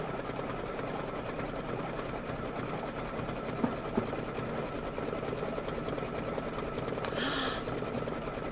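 A Kimberbell sewing machine runs steadily through a decorative stitch on a table topper, a continuous close mechanical whir with a few faint clicks and no talk.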